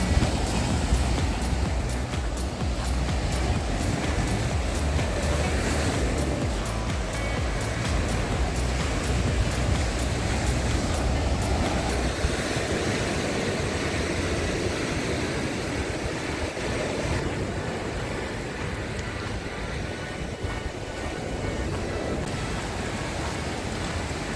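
Sea waves on the Odesa shore, a continuous broad wash of surf rolling in steadily and fairly loud, with no talk over it.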